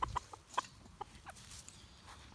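Faint, scattered clucks from chickens in a breeding pen, a few short calls at a distance over quiet farmyard background.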